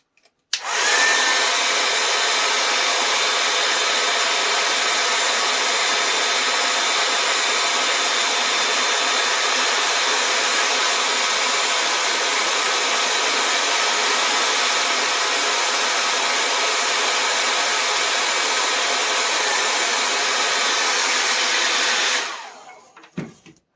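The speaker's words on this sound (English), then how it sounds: "Now we're going to heat them up. I use a hair dryer." A hair dryer blows steadily and loudly for about twenty seconds while warming adhesive grip tape during an install, switching on abruptly and cutting off at the end with no talk.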